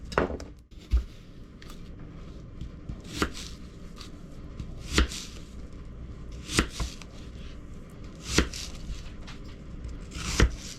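A knife chops half an onion on a cutting board, sounding as a few sharp, evenly spaced thunks about every one and a half seconds over a faint, steady room background.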